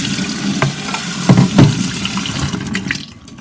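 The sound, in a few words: rinsing black beans in water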